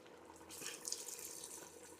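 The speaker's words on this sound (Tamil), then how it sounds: "தண்ணியை நம்ம இதில் ஊற்றுறோம்" Hot water is poured steadily into a pot of village-style mutton curry, a soft continuous splashing trickle heard close and fairly quiet, with no voices.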